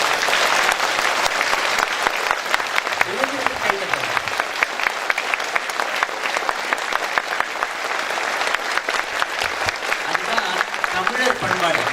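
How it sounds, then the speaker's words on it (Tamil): Sustained applause from a large audience at a birthday celebration for lyricist Kavinjar Vaali, with dense clapping filling the whole stretch, steady and loud with a few brief voices mixed in. "நாம் அவர்களுக்காக கைதட்டுகிறோம்"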